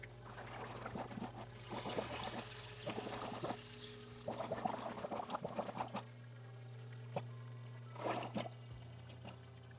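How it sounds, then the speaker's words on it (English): Water drains and trickles through a tiered ebb and flow emersed aquarium plant setup, with soft pouring and dribbling sounds that swell and fade in bursts over a steady low pump hum. "We still have some water coming in from the tub up above, but in the end it is draining faster than it is filling"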